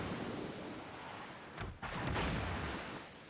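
Incoming shells and artillery fire in the naval battle game World of Warships, a continuous low rumbling barrage with a couple of sharper booming impacts in the middle.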